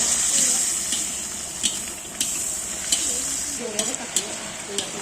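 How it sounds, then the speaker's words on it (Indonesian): Jengkol (dogfruit) frying in oil, an Indonesian dish, gives a steady close sizzle with faint stirring clicks and scrapes throughout, while a person talks over it. "Iya, goreng jengkol."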